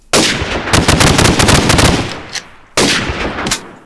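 Rapid bursts of automatic gunfire from modded guns in a Minecraft battle, loud and close, a long sustained volley followed by a brief pause and a second short burst, with no talking over it.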